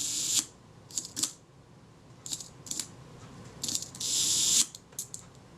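A Synchro Compur leaf shutter from a Linhof camera being worked by hand, giving a series of sharp, close mechanical clicks and short whirring gear-train bursts separated by pauses.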